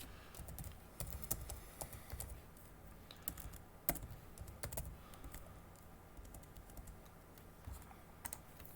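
Quiet, irregular clicking of keys on a computer keyboard in bursts, close and faint, with no talk over it.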